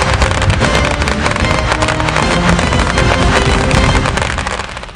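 Dense, continuous crackling bursts of Diwali firecrackers going off in rapid succession, loud and close, tapering slightly at the very end.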